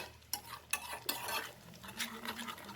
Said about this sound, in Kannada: ಹಾಗಾಗಿ 1-2 ನಿಮಿಷ ಕೈ ಆಡಿಸ್ರಿ ಇದರಲ್ಲೇ.